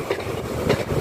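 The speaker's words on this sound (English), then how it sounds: "Train passing now is" A ScotRail Class 156 diesel unit rumbles past close by with a steady roar of wheels on rail, the noise staying loud and continuous through the brief moment.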